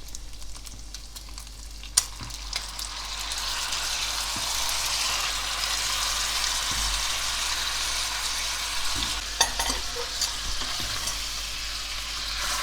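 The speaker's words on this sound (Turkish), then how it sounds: "Yaklaşık birlikte bir 5 dakika kavurduktan sonra yemeğimiz hazır" Kavurma stir-fried with onion, peppers and garlic in a pan gives off a steady, loud sizzle with occasional sharp clicks from stirring, and no voices.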